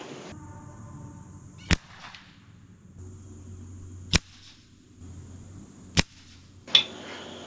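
Shots from an FX Impact M3 air rifle fitted with a 0DB Tactical moderator, four sharp, sudden cracks spaced a second or two apart over a quiet hum, with no talking.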